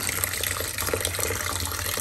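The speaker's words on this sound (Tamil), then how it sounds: "ஃபஸ்ட்டு தண்ணி போடுங்க" Water pours steadily into a clay cooking pot, a continuous close splashing gush with no pause throughout.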